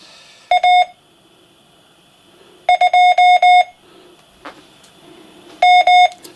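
A UCPO Morse practice oscillator sends high-pitched tone bursts in short clustered groups of dots and dashes, separated by pauses, clear and close with no talking.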